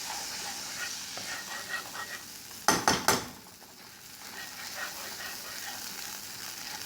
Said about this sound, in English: Just make sure you mix out all of the flour into the butter.